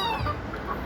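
A bantam chicken gives a single brief cluck, fairly faint against background noise.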